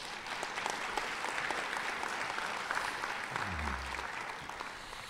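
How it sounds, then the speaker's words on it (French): Audience applause at the Ottawa mayor's annual francophone gathering, a steady, dense wash of clapping that holds for about five seconds at moderate level with no speech over it. "Et je pense qu'on doit applaudir ici."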